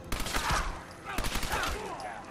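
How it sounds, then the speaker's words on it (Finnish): Gunfire in the video game Fallout 4, a quick cluster of sharp shots fired in close bursts, fairly quiet overall. "Pitää varovasti ampua, ettei osuta Longfellowhan."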